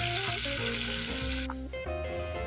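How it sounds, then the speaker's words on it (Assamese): Onion, cumin seeds and bay leaves fry together in hot oil, giving a steady, close sizzle with a faint crackle that holds for a couple of seconds, with no talking. "পিঁয়াজৰ লগে লগে মই জিৰাকেইটা পিঁয়াজতে একেলগতে ভাজি ল'লে ভাল হয়।"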